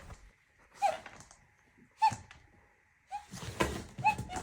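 A border collie gives several soft, high whimpers and whines at night, spaced out in short bursts amid quiet room hush.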